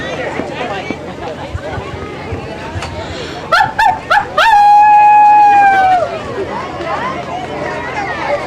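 Amid crowd chatter, a person gives a few short yips and then a sustained, falling howl imitating a wolf, loud and close.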